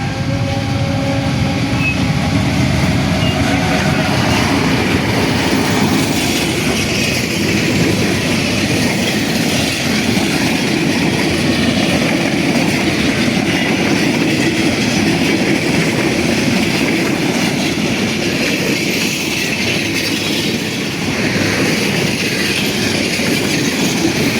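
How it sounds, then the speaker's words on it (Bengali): A train pulls into a railway station with a loud, continuous rumble of wheels on rails and rhythmic clatter of the carriages, close by and sustained without speech. "তো ওকে গাইস, ট্রেন কিন্তু কাছে এসে গেছে।"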